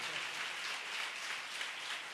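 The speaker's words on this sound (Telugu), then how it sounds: "చప్పట్లు కొట్టండి." A church congregation claps hands during a service, producing a faint, distant, even patter of many hands that runs steadily throughout without standout claps.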